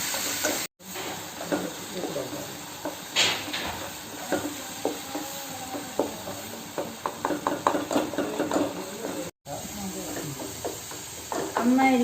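Banana pieces frying in a pan sizzle steadily, with frequent scraping and stirring clinks from a spatula against the pan; a person talks over the cooking.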